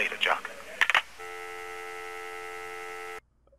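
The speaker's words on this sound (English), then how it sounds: "When you press a button on the phone, do you just grip it really hard with your hand?" Telephone keypad buttons are pressed in a quick burst of dialing tones, followed by a steady electronic line tone that holds for about two seconds and then cuts off abruptly, in a scene from an older TV show.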